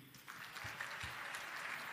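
Steady applause from an audience at a church fundraising harambee in Bagamoyo, a dense continuous patter of many hands clapping that holds throughout at moderate loudness.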